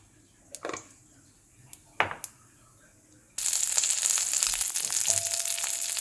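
A few sharp crackles and pops, then a sudden loud, continuous sizzle of mustard seeds spluttering in hot oil in a kadai, close by.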